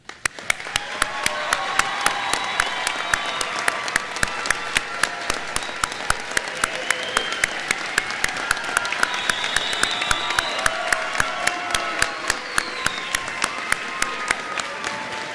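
A crowd at a university commencement ceremony in Gainesville applauds its graduates for a long stretch. The clapping is loud, dense and sustained, with a few sharp, close claps standing out at a regular beat throughout.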